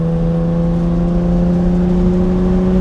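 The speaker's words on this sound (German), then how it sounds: "der brummt halt ein bisschen, ist ein bisschen lauter durch das Loch im Auspuff" A 1971 Mercedes 250 CE Strich 8 coupé pulling away under acceleration, its exhaust with a hole giving a loud, steady droning hum with a rising engine tone and no voices.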